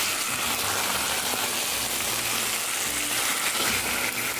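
Chicken fries slowly on a low stove flame, giving an even, steady sizzle and soft crackle that continues unbroken, close and alone with no voices.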